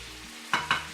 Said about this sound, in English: Add paprika, mix everything, and sear the meat on all sides.